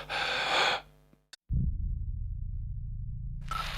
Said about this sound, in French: Je prends mon souffle et on plonge